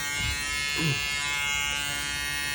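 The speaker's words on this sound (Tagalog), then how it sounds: "Pakinggan nyo yung tunog mga kap." A LyNx Duo dual-foil electric shaver hums steadily throughout, a close, even buzzing drone with a brief lower shift partway through.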